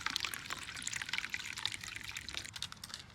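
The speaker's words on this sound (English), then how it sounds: "I'm just going to be pouring the vodka 2 to 3 inches over just to cover" Vodka is poured over dried oregano in a jar, making a soft, continuous trickle and splash of liquid filling the glass, faint and close.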